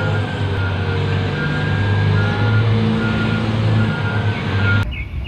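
Toy mining truck sounding reversing beeps, a regular series of high electronic pips over a steady low whir, close and loud, ending abruptly near the finish.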